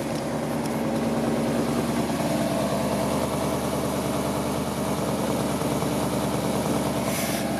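A 1977 Ford Ranchero engine idles steadily and continuously up close, a loud, even rumble with no revving and no voices.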